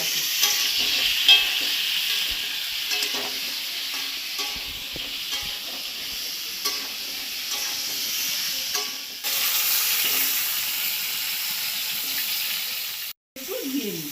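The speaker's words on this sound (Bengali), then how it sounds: "আমি হলুদ দিলাম, অল্প নুন দিলাম, ভেজে নেব আলুটাকে।" Potato pieces fry in oil with turmeric and salt, a loud, continuous close sizzle with occasional stirring clicks and scrapes, running unbroken for a long stretch before a brief cut.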